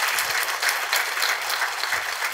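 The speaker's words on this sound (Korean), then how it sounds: "우리 이 시간에 하나님께 감사와 영광의 박수 올려드리기를 원합니다" A congregation at a church healing service claps in a sustained, dense burst of applause that fills the room at steady loudness throughout, with no voices standing out.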